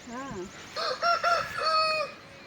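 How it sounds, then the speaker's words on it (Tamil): A rooster crows several times in quick succession, loud and close, with a faint steady hiss of background noise behind it. "சேவல்"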